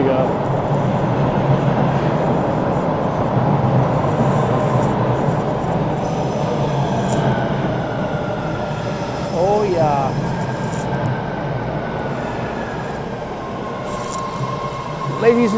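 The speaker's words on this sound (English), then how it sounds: "it's the first train of the day. Brought to you by Boston Commuters" A Boston commuter train rolls past close by with a loud continuous rumble, its wheels squealing in high drawn-out screeches over the noise while a person briefly speaks.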